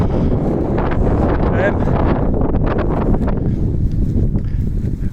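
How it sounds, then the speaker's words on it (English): Wind buffets a microphone outdoors in open wilderness, a constant loud rumbling roar with gusting surges, while someone talks over it throughout. "Apologies, the wind's getting up, so I'm giving you a very big close-up."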